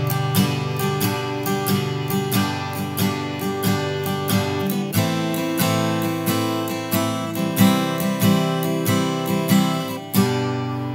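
Guitar strummed in a bouncy swing rhythm, steady long-short chord strokes repeating loud and close with no talking over them.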